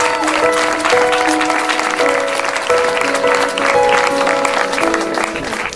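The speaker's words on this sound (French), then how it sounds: "Une bonne main d'applaudissements pour le comité." Crowd at a Relay for Life event applauding the committee, sustained loud clapping for several seconds with a voice talking over it.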